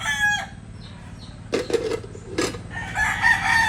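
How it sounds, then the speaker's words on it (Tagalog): Rooster crowing on a rural farm field, two loud crows in the middle of the clip among softer clucking and other birds, with farmyard background noise throughout. "Nadidinig naman guys yung mga tilawak ng manok."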